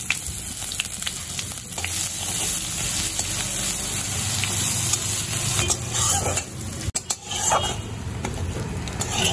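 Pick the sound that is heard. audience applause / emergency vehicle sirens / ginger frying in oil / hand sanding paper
ginger frying in oil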